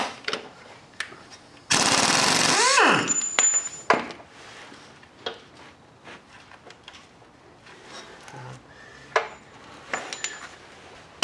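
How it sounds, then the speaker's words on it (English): An impact wrench loosening the crankshaft pulley bolt on a 1987 Toyota Camry during timing belt work: one loud, sustained rattling burst of about a second, followed by scattered clanks and taps of tools and parts. "It's easiest to take this bolt off with an impact wrench, because then you don't have to hold the pulley in position."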